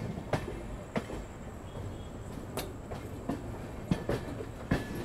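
Passenger train pulling out of Ratlam Junction, with rhythmic clickety-clack of wheels over rail joints at regular intervals above a constant rolling rumble, heard from on board.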